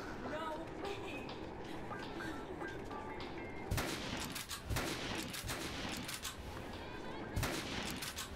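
Sniper rifle gunfire in the video game Dead Rising on PS5: a few sharp, loud shots crack out over a steady bed of game noise and rumble.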